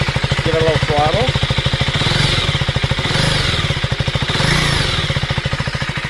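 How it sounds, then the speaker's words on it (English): Close up, a 2025 KTM Enduro R engine gets light blips of throttle, its pulsing exhaust swelling and easing back in gentle revs over a steady idle, with a short stretch of speech early on. "Give it a little throttle."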